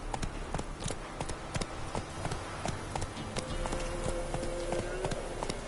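Roach, the horse in The Witcher 3, gallops with rapid, rhythmic hoof clops, close and loud over a dense game soundscape, with no pause in the stride.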